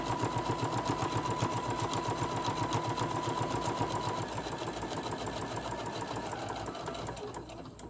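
A home sewing machine runs steadily, stitching through thick quilted fabric for a casserole-size Christmas hot pad, its fast even needle rhythm close and continuous, easing slightly near the end.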